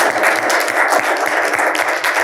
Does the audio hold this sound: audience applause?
yes